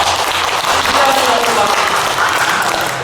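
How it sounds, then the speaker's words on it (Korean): A church congregation at a Sunday worship service claps together, producing a loud, dense, continuous wash of applause that holds steady for a few seconds in a reverberant hall. "박수 한번 칩시다."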